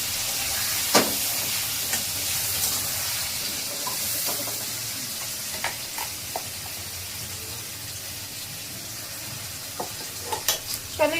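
Food frying in a pan for a long, dry fry, a continuous hissing sizzle with occasional clinks and stirring taps, close and steady with no talk.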